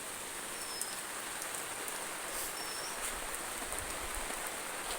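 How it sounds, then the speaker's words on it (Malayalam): Rain falls steadily outdoors in the evening, a soft, even wash of patter with scattered drops and no talking. "അവിടെ മഴയില്ല, പക്ഷെ ഇവിടെ മഴയാണ്."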